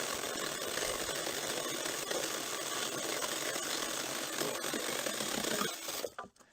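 A Weikeisa 10-inch handheld cordless brushless chainsaw runs steadily through a fairly large tree trunk, a continuous loud buzzing whine held for about six seconds before cutting off abruptly.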